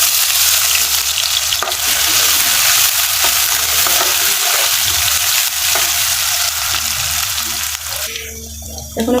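Chopped onion and green chili hit hot oil in a wok and sizzle loudly and continuously, with occasional stirring clatter, before the frying noise dips near the end.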